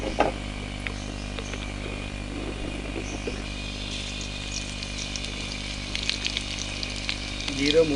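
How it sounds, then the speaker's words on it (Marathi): Cumin and mustard seeds, garlic and turmeric sizzle in hot oil as a tempering for a taro leaf dish, a steady frying hiss under a low hum, with brief voice sounds in the background. "जिरं मोहरी टाकली, लसूण टाकला, हळदी टाकली, तर ह्याच्यावर फोडणी दिली।"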